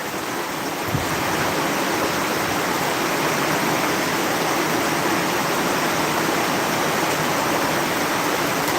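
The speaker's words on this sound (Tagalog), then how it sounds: "Sobrang lakas ng ulan." Very heavy rain pours down steadily in a dense, unbroken roar that stays loud and close from start to finish, with no voices over it.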